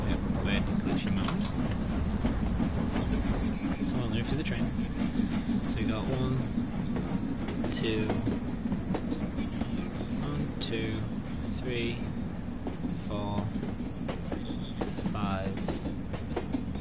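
Steam locomotive in the video game Train Sim hauling ten carriages up a 1.1 gradient, a continuous rolling rumble with faint clickety-clack of wheels under a person speaking throughout.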